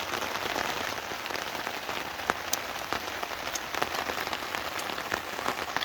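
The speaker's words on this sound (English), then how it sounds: "this rain has come down with a vengeance now, so I think we're under this tarp now for the duration of tonight" Heavy rain pours onto a camping tarp at a woodland wild camp, a dense, steady patter with sharper drops now and then, close and constant throughout with no voices.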